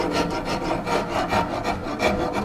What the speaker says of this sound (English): then I used my rasp to round it over here